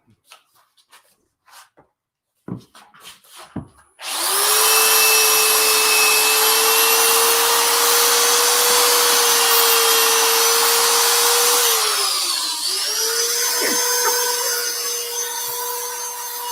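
A steady, loud whine of a power sander on wood runs continuously after a few quiet knocks, dipping briefly near the end before resuming.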